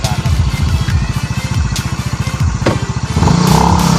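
A Rusi Adventure X CVT motorcycle engine chugs steadily at close range in a rapid, even thump, swelling slightly louder near the end.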